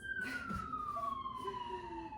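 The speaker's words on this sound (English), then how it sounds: "a lot of sirens" Emergency vehicle sirens sound outdoors during a winter yoga class, with one steady wailing tone drifting slowly downward in pitch and a fainter second siren joining midway. The sirens sit at moderate distance and continue throughout the clip.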